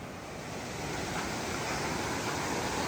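Small river flowing beside the Appalachian Trail in Vermont, a steady broadband rush of moving water, close and continuous with no talking.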